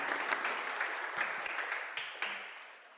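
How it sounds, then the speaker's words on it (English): Applause at an arts mapping workshop: a crowd of hands claps continuously at a moderate, somewhat distant level, slowly tapering toward the end. "let's just give a round of applause to Lazarus Chan"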